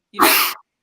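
A single sharp human sneeze, loud and close, bursting out alone in under half a second.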